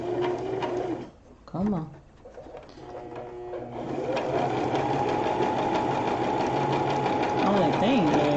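A sewing machine stitches rope with a close, satin-like embroidery stitch. A brief voice and a short pause come first, then the whirring rattle returns and speeds into a loud, steady run.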